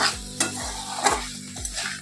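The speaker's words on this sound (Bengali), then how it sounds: "এই দেখো আমার মশলাদার আলু পটল ভাজা যা বলো তোমরা, রেডি হয়ে গেছে।" A spatula scrapes through spicy potato and pointed gourd frying in a pan, giving a rhythmic series of stirring strokes over a continuous close sizzle.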